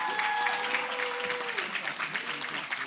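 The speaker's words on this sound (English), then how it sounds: "give them a round of applause." Dense audience applause fills a graduation ceremony for a leadership academy, a steady wash of many hands clapping at once, with a voice briefly audible near the start.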